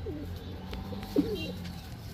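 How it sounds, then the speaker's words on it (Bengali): A pair of army pigeons gives a soft, brief coo amid quiet indoor background noise, faint and close by. "এখন এক জোড়া আর্মি কবুতর দেখাবো"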